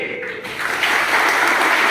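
Audience applause at a martyrdom day commemoration for Raghunath and Kunwar Shah, a dense wash of clapping that swells after a brief quieter start and holds steady and loud.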